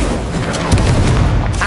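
In the Hogwarts Legacy video game, the Incendio fire spell erupts as a loud, dense whooshing blast of flame. The roar is sustained and rumbling and fills the whole short moment.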